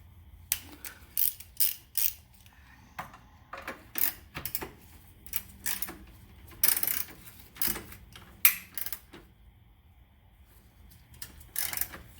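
A ratchet works on the 10mm bolts of a Honda battery hold-down, giving close, sharp clicking bursts in uneven groups with quiet gaps between them.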